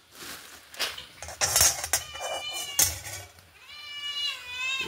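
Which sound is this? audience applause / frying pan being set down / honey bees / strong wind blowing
frying pan being set down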